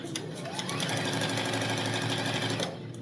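A sewing machine runs steadily while stitching quilt pieces with a quarter-inch seam, a fast even mechanical hum and needle clatter lasting about three seconds, close and alone.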